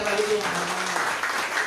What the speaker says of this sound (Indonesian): Yang percaya kasih tepuk tangan yang meriah bagi Tuhan